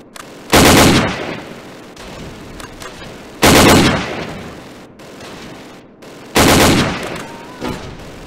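Gunfire in a tactical team multiplayer video game, three loud, close bursts of rapid shots a few seconds apart, each fading into a softer rumbling tail.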